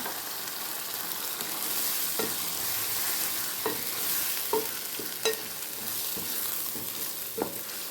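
Sizzling fried tempering being stirred into curry leaf chutney in a pan, a steady crackling sizzle with a handful of sharp scraping stirs at irregular intervals, close and alone.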